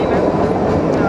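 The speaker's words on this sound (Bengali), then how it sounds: "ট্রেন বেশ ভালোই দুলছে, যেমনটা দার্জিলিং টয় ট্রেন দোলে" The Shimla toy train rocks and sways along its narrow-gauge mountain rails, a loud, dense, continuous rumble of wheels and carriage from inside the moving coach.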